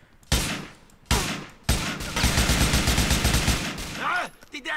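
Gunfire in the GTA 4 video game: several loud, sharp shot bursts followed by a sustained rattling volley of rapid fire, close and dominant, with no talking over it.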